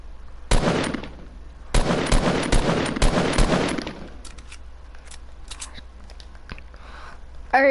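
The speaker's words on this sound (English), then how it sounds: "I'm gonna shoot them down." Gunfire in the Fortnite video game: several loud, sharp bursts of rapid shots close together in the first half, then scattered fainter clicks and effects, with no talking.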